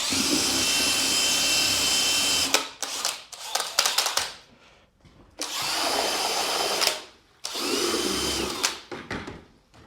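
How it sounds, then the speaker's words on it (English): A power drill with a paddle mixes tile mortar for a bathroom floor, whirring loudly in several long bursts broken by short pauses and clatters, close by. "we'll come back, mix it for another minute, and then start laying it down"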